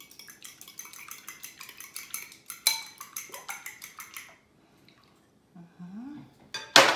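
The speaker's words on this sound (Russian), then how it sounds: "Размешиваем." A utensil stirs a fish cutlet mixture in a bowl with a quick, rhythmic run of close clinks and scrapes. It stops, leaves a brief quiet gap with faint sounds, and a louder clatter follows.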